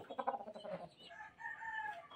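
A gamefowl rooster from Honey You 888 Game Farm gives a single close, fairly loud crow, a rough stuttering start drawing into a sustained wavering call, with no talk.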